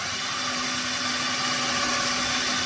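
A power drill fitted with a bit of sandpaper sands mica washers for an Amanco igniter repair, giving a steady, continuous whirring drone with a constant hum, close and alone throughout.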